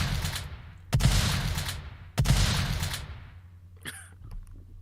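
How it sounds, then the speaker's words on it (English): Recorded gunfire played aloud during a tabletop role-playing session: two loud, booming shots about a second apart, each with a long decaying echo, followed by fainter rattling bursts. "Now there's gunshots."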